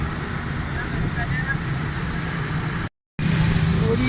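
A Suzuki Cultus three-cylinder engine idling steadily up close with a low, even rumble, briefly cut to silence near the end before resuming; it has a tappet guide fault and a Chinese carburetor.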